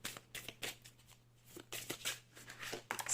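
Tarot cards being shuffled by hand in quick riffling bursts, a series of crisp papery flutters with short pauses between, close and fairly quiet with no talking.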